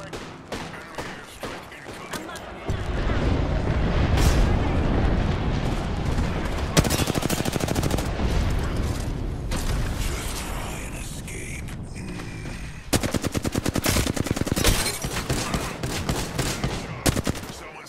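Gunfire crackles in a battle royale video game: sustained rapid automatic bursts and dense shooting that runs almost continuously, with mechanical clicks and reloading clatter between bursts, loud and close.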